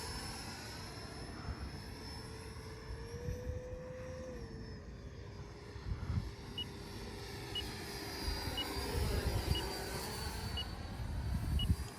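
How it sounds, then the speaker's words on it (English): Steady jet whine from an RC F-18C Legacy Hornet with a 90mm ducted fan and retracts, flying overhead and holding a sustained tone that shifts in pitch and swells louder toward the end. No voices are heard. "What a great flying plane, man."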